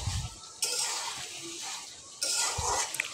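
Cauliflower curry sautéing in a pan, with two loud bursts of sizzle and stirring scrapes separated by a quieter stretch of steady frying hiss, close and without talk.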